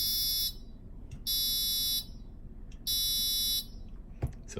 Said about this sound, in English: connected to the buzzer here, and it's tuned to vibrate at a frequency that is in A.